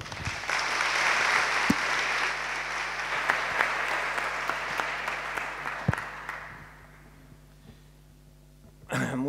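Applause from an audience welcoming new students to a European business school, a full burst of clapping that swells for about six seconds, then thins and fades into near quiet with a few scattered claps.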